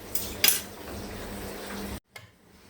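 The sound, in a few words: straining herb water through a sieve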